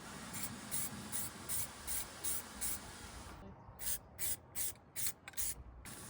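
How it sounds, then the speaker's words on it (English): Spray paint hissing onto a lawn mower: a row of short, regular bursts, each lasting about a quarter second, then a few sharper, louder blasts over a faint steady background. "now we're gonna blast this sucker down with a little bit more spray paint"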